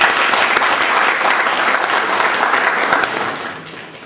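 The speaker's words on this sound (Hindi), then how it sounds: "हमारे सच्चे विधिक सेवा प्राधिकरण के जोरदार तालियां बजाकर स्वागत करें।" An indoor audience gives a welcoming round of dense, loud applause at a legal services authority event, sustained for several seconds before tapering off near the end.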